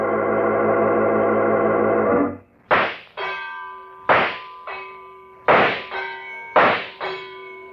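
Shooting-gallery shots clang in a penny arcade in an old-time radio drama: after a sustained tone cuts off, five sharp metallic pings ring out about a second apart, each leaving a bell-like decaying hum.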